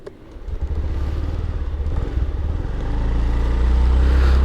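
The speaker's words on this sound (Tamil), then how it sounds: "ஸ்டார்ட் பண்ணும்போது வந்து பார்த்திங்கன்னா எந்த ஒரு நாய்ஸுமே இருக்காது இன்ஜினில்" A Honda Dio BS6 110 scooter with a silent starter fires up without any cranking noise, then settles into a low, steady idle close by that gradually grows a little louder and rougher.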